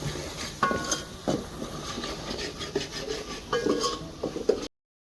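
Homemade misal masala being sautéed in a pan over a village wood-fired stove, with scraping and rubbing strokes of a spatula against the pan at an irregular pace, moderately close, over a faint frying hiss.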